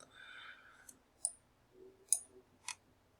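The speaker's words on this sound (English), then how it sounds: "so let's click through them." A computer mouse clicks through search results in a quiet room: four or five sharp, isolated clicks spaced irregularly, near and crisp.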